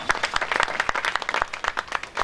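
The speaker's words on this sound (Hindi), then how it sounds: "तो वो उसके लिए भी एक जोरदार तालियां हो जाए" A crowd at a ration kit distribution gives the volunteer team loud applause, sharp individual claps overlapping in an uneven, lively patter.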